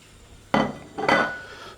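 Pork chow mein noodles being stirred and tossed in a pan, giving two loud scraping, clattering bursts of utensil against metal about half a second apart, with no talking.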